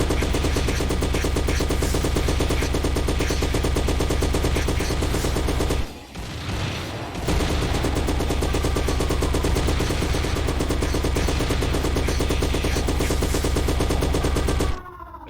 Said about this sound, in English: let's get our hive gun out